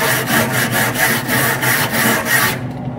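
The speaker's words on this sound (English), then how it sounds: "The other tool I'm using today is this grill brush." A very stiff grill brush scrubs crusted residue off a Traeger grill in quick, loud, rhythmic back-and-forth strokes, about a dozen rasping passes before stopping abruptly.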